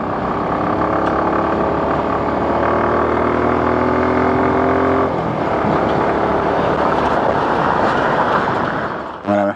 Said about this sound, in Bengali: নিচে গাড়ি, উপরে ট্রেন।